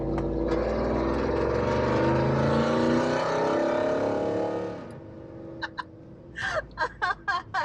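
A first-generation Ford Raptor pickup's engine roars loudly and close for about five seconds, then cuts out, followed by a series of short, sharp revving blips.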